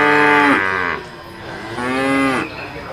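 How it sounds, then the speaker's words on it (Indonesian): A water buffalo gives two loud, close, drawn-out moos, each about a second long and separated by a short pause. "Ini kerbau teman-teman."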